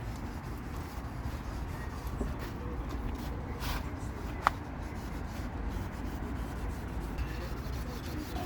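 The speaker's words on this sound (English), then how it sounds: "I hate scuffing bumpers." Steady rubbing and sanding rasp from scuffing a car bumper during a 2018 Honda Accord repair, continuous and close, with a single sharp tap midway and no talk.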